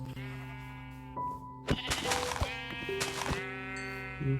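Sheep in the Minecraft video game bleat several times in close, loud bursts over steady background music, with a brief thud of game effects between the calls.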